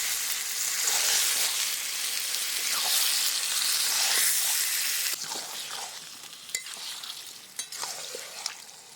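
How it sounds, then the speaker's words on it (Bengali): Duck meat fries in spice paste with a loud, dense sizzle. It eases off partway through as a spoon stirs and scrapes the pan in short, irregular strokes nearby. "এবার আমি মশলার সঙ্গে মাংসটা খুব ভালো করে কষে নেব।"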